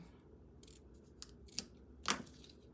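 Scissors trimming paper for a handmade card, a few soft snips in a quiet room, the last cut the sharpest and loudest.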